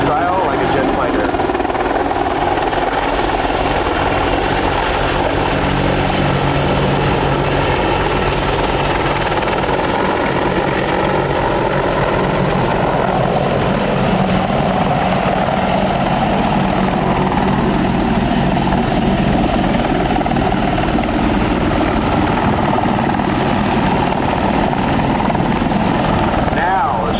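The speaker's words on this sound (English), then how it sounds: "Lateral acceleration in the AH-64." AH-64 Apache helicopter flying at a military air show, a loud, continuous rotor thrum and engine roar that stays steady throughout, with an announcer talking over it.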